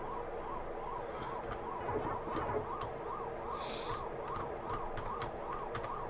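Wailing siren effects from a ghost-hunting video game, a steady rising-and-falling electronic tone repeating throughout with faint clicks and rustles behind it.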